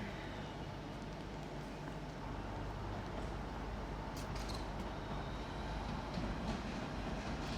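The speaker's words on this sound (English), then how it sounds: "going out now is a Southeastern service to I believe to Ramsgate" A Southeastern high-speed service bound for Ramsgate pulls out of St Pancras International on HS1, a low, steady rumble with faint clicking wheels, heard from a distance at low volume.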